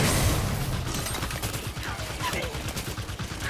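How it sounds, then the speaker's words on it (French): Plasma cannon fire in Halo 5 sounds as a dense, rapid burst of crackling shots and booms, loud and close, with game noise mixed in. "Canon à plasma."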